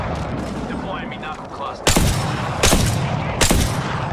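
Sharp gunfire bursts from the shooter game Apex Legends crack out three times in quick succession, loud and close, over a background of game ambience and a voice speaking Thai.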